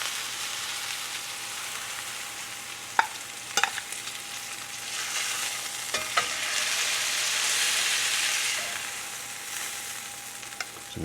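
Steaks sear in a pan, giving off a steady, loud sizzle and crackle with occasional sharp pops and spatters, continuous throughout with no talking.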